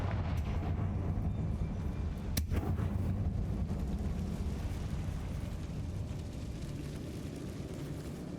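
A Confringo fire spell explodes inside a closed, tomb-like mine in the video game Hogwarts Legacy, giving one sharp blast that fades into a dense, steady low rumble with no talk.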